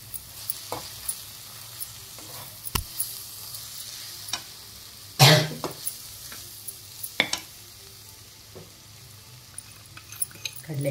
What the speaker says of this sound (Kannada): ಕಡಲೆ ಹಿಟ್ಟೆಲ್ಲ ಹಾಕ್ಕೊಂಡ್ಬಿಟ್ಟು ನಾನು ಇದನ್ನು ಚೆನ್ನಾಗಿ ಅದಕ್ಕೆ ಮಿಕ್ಸ್ ಆಗೋ ಹಾಗೆ ಮಾಡ್ಕೊಳ್ತಾ ಇದ್ದೀನಿ